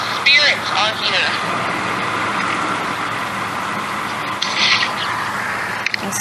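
Steady road traffic roars near the James Jackson Parkway Bridge in Atlanta, a continuous broadband rush of passing cars and trucks with a few brief louder swells, while voices talk faintly over it.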